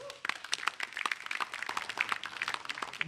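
Studio audience clapping for a comedian after his stand-up set on a comedy competition stage, dense rapid claps forming steady applause, fairly close and lively.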